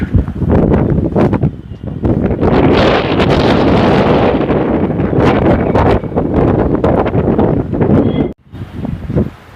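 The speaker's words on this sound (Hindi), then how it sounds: "मौसम ठंडा है, ऊपर से इतनी तेज हवा।" Strong, cold wind roars and buffets the microphone outdoors, a loud continuous rush with gusting surges that drops off abruptly near the end.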